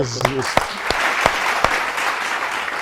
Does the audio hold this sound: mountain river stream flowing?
no